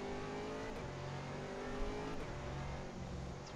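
A GT3 race car engine revs steadily in-game at the Misano circuit, a close, continuous buzzing drone held at high revs, fairly quiet overall, with no talking.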